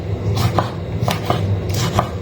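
A knife chops onion on a cutting board in a quick run of about six crisp, close taps, each a short percussive knock, with no voices.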